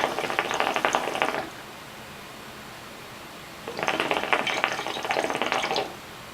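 Egyptian-bowl shisha hookah bubbling in two bursts as smoke is drawn, each a steady, fairly close gurgling rattle lasting over a second, separated by a quiet pause.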